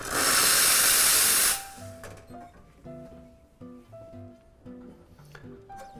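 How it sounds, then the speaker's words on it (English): Steam wand on a Lavazza Blue LB4724 capsule coffee machine purging: a loud, steady close-up hiss for about a second and a half that cuts off abruptly, followed by light background music. "Remember to purge your steamer first."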